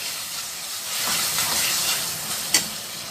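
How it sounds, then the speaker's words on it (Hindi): Keema, minced meat, fries in a pot with a steady close sizzle and hiss, swelling slightly midway, with one sharp click or clank near the end and no talking. "खीमे को मैं अच्छे से भून ली"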